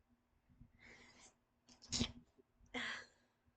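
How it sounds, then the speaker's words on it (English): A quiet sneeze comes in a couple of short bursts after some faint breathing, close by in an otherwise still room. "I'm gonna sneeze."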